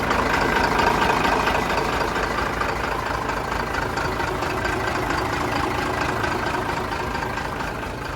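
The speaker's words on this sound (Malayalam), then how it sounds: "ഇവന്റെ റോ ആയിട്ടുള്ള എഞ്ചിൻ സൗണ്ട് കേൾക്കി തരാട്ടാ." The engine of a modified Tata SK1613 truck idles steadily at close range, a loud, even diesel rumble with a slight knocking texture, holding unchanged for several seconds with no voices over it.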